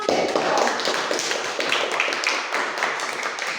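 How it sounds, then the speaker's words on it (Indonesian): A classroom of students applauds together during a teacher-training practice lesson at Universitas Simalungun, a dense, continuous wash of clapping that holds steady for a few seconds with no one talking over it. "terima kasih, tepuk tangan"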